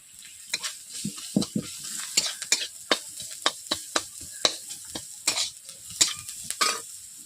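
Small chuno fish frying with chili powder in a hot pan, with a soft sizzle under a quick series of sharp spatula scrapes and taps against the metal, close and uneven in rhythm.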